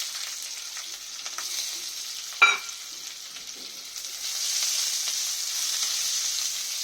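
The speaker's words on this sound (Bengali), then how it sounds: "পেঁয়াজটা একটু লাল লাল করে ভেজে নেবো ভালো করে।" Chopped onion with black cumin frying in hot oil in a pan, a steady bright sizzle with one sharp clatter of stirring midway, swelling louder near the end, no voices.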